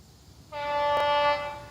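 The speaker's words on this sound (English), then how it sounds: "Apart from the trains, that is." A train horn sounds a single sustained tone beside a canal on the Kennet route near Aldermarston, rising abruptly over quiet outdoor ambience and holding steady for over a second.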